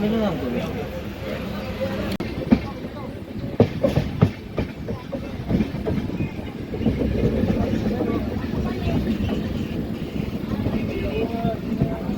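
The Siddheshwar Express rolls along the rails with rumbling and a few sharp metallic clacks, arriving at Jeur railway station, while people talk nearby.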